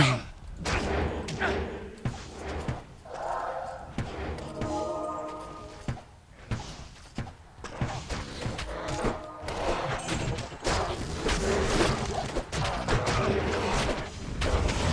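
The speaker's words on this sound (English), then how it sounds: "Something exploded." Combat sounds in the video game Diablo II, with repeated thuds and bursts forming a dense, loud, continuous clatter throughout, and a player talking now and then over the game audio.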